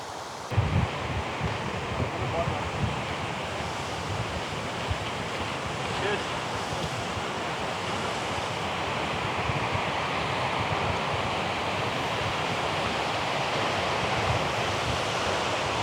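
A creek tumbles downhill near Bondhusvatnet in the Norwegian woods, a continuous, fairly loud rushing hiss of water with some wind buffeting the microphone, unbroken throughout.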